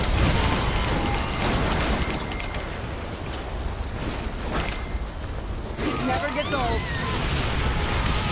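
Video game explosions from Saint's Row: The Third, dense rumbling blasts and booming bursts filling the whole stretch at steady loudness, with crackling debris and a brief higher whine near the end.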